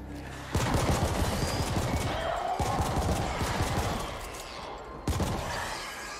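Rapid bursts of gunfire from The Ascent, a cyberpunk shooter game, fired across dense automatic volleys with a short pause, then another burst; loud and close with sporadic game effects layered over it.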